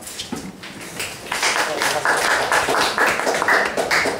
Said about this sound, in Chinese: 同学给他掌声好不好？